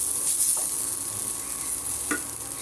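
Poppy seed paste being stirred as it fries in a pan, a steady soft sizzle under faint scraping, with two brief louder stirring scrapes against the pan bottom.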